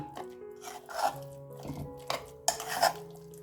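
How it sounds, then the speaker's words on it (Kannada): Brinjal is stirred with oil in a cooking pan, giving scraping, rubbing strokes of utensil against metal in irregular bursts, close and fairly loud, with no talking. "ಇವಾಗ ಇದೆಲ್ಲನೂ ನೀಟಾಗಿ ಮಿಕ್ಸ್ ಮಾಡ್ಕೊಳ್ಳೋಣ"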